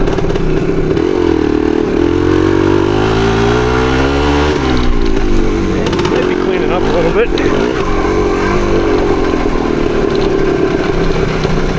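A 1975 Yamaha DT250 motorcycle engine idles close by, then revs up and back down in a couple of swells, with someone speaking briefly over it.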